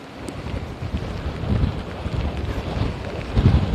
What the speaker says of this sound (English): it just started to pick up raining around 10:30 a.m. today, and it's just starting to come on down, and the winds have been pretty consistent